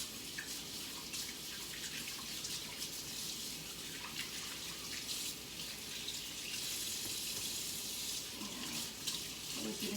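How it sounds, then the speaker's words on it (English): Kitchen tap running steadily while batter is washed off hands, a continuous close hiss of water with faint splashing and rubbing throughout. "wash my hands yet again because now I've got batter all over them."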